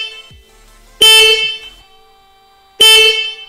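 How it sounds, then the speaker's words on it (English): A weak stock horn on a Hyundai Veloster, a thin, nasal car horn likened to a clown car's, sounds twice in short loud blasts about two seconds apart, each under a second long, with quiet between. "that horn is awful. It sounds like a clown car horn."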